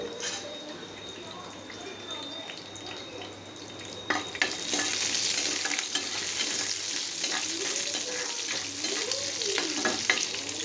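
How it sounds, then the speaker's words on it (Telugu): Food frying and being stirred in a pan until browned, for a Telugu curd rice dish, giving a steady sizzle with scraping stirs that grows louder after a few seconds and holds through to the end. "బాగా కలుపుకుంటూ బ్రౌన్ కలర్ వచ్చేంత వరకు వేయించుకోవాలి"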